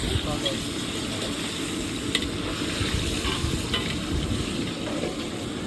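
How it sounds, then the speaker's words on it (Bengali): Fish sizzles in a pan during a busy home cooking session, a continuous crackling fry with occasional stirring clicks and scrapes, while voices talk faintly in the background. "বন্ধুরাও মাছ ভাজা হচ্ছে"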